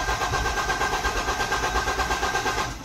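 Mahindra Bolero engine with a fault causing a starting problem, turning over in a steady rhythmic crank with a pulsing mechanical drone, close and loud for about three seconds.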